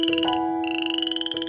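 A frog croaks with a loud, close, rapidly pulsing trill that runs unbroken through the whole stretch.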